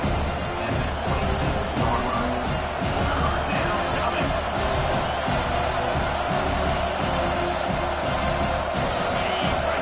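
A stadium crowd roars and cheers steadily at an American football game as the defense faces third down, a dense, loud wall of noise sustained throughout with no pause.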